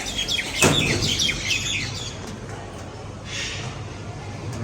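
Several pigeon and lovebird chirps and calls repeat near the start, with a sharp knock partway through, then quieter ambient noise follows.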